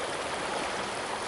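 A creek flows through an icy, evergreen-lined gorge in Emmerling Park, Allegheny County, giving a soft, steady rushing babble heard alone and at a moderate distance.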